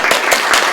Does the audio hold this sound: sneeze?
no